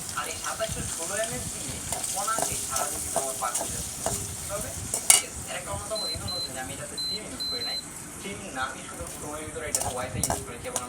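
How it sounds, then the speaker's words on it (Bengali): Ginger and garlic fry in a pan, a steady bright sizzle broken by scraping stirs and one sharp clatter, with speech running over it and a few faint beeps in the background. "আদা রসুনগুলো দিয়ে দিতেছি আগে আদা রসুনটা কষায় নি"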